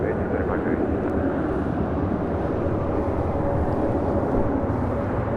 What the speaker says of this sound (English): We do have LATAM Airlines cargo heading to Miami. 767-300 converted passenger plane.